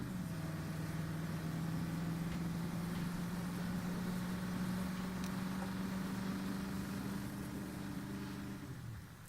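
A cash-transport convoy vehicle's engine drones steadily while driving in the Oscar RP role-play game, a faint, even hum with a slight rising tone, no voices, fading a little at the end.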